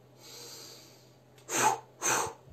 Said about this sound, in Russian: за счет одного дыхания мы делаем 2 выдоха